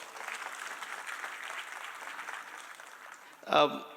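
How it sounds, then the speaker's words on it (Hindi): Audience applause for event volunteers in a hall at a Kolkata law university program, a soft steady patter of many hands that runs for several seconds before a brief louder burst near the end. "एक बार वो वॉलंटियर्स के लिए ज़ोरदार तालियां हो जाएं"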